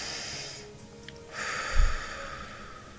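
A single human breath taken close to the microphone: a quiet inhale and a brief, soft, snort-like exhale, alone and without talk.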